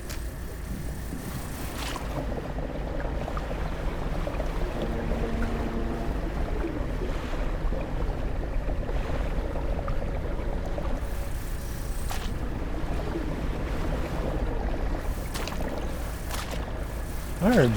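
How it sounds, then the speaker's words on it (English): A fishing boat in the video game Dredge chugs across open water, a low steady engine rumble mixed with lapping waves and wind, continuous and fairly close, with occasional faint talk underneath. "I heard the boat weirdly for a second."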